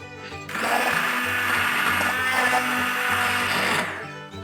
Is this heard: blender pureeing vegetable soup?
yes